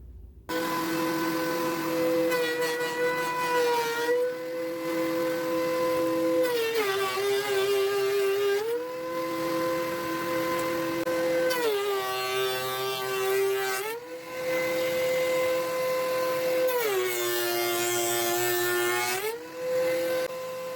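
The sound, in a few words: wood planer running end grain timber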